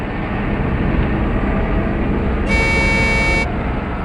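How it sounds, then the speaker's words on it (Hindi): A truck's steady engine rumble runs throughout, joined by one loud, sustained horn blast lasting about a second, in a forest. "हॉर्न भी बजा रहा है।"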